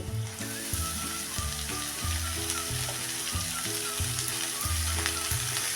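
Garlic, green chili and fenugreek greens sauté in hot oil with a steady, dense sizzle and occasional stirring. It runs continuously beneath rhythmic background music.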